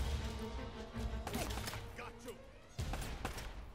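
A burst of gunfire in Uncharted: Drake's Fortune, with sharp shots at the start and again near the end, set against steady game ambience and a low musical bed.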